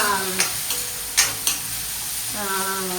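Onion and tomato sautéing in a pan, a steady soft sizzle with a few sharp scrapes and clinks of a spoon stirring against the pan, close and alone with no talk.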